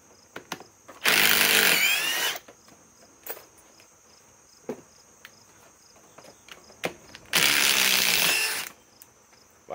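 A Hercules 2200 inch-pound cordless impact wrench fires two loud bursts of rapid hammering, each lasting over a second, separated by a quieter stretch with scattered small clicks and handling knocks.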